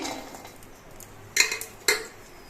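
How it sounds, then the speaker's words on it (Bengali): Garlic dry-fried without oil in a wok, stirred with a metal utensil: a faint quiet background, then two sharp scraping clinks against the pan about half a second apart. "এবার রসুনগুলো ভেজে নিচ্ছি"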